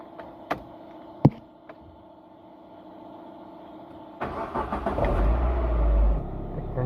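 A Proton Saga FLX engine fires up after a few sharp clicks and knocks, then settles into a steady, close running rumble with a slight rise in revs.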